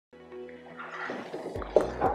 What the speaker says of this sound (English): We will first pour some hot milk